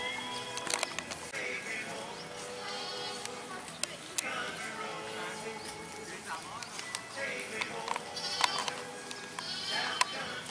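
Sheep bleat repeatedly, near and far, across a busy sheep farm where visitors feed the flock grass, with insects buzzing and people talking throughout.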